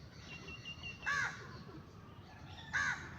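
A crow caws twice, each a short harsh call about one and a half seconds apart, fairly clear over a soft, steady background hiss.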